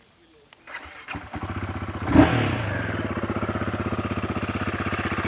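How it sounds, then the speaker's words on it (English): A Royal Enfield Guerrilla 450 motorcycle engine cranks, catches and fires up with a burst, then settles into a loud, rapid, throbbing idle with a clattery exhaust pulse. "Now let's fire this engine up and see how it sounds."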